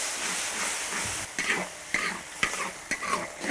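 Chopped chili, ginger and garlic hit smoking-hot oil in a wok with a steady, close broadband sizzle, broken by several sharp stirring scrapes.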